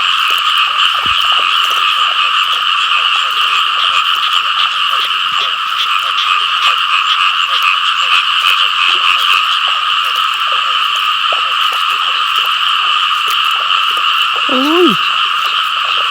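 Frogs croak in water during a frog-catching outing, a dense and steady chorus that stays loud and continuous throughout, with a brief lower sound near the end.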